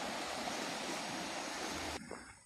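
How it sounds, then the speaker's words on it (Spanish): A river in Puyo, Pastaza, Ecuador rushes with a dense, steady broadband roar close by, filling the air for two seconds before dropping abruptly to a quieter wash. "Este es el siguiente río."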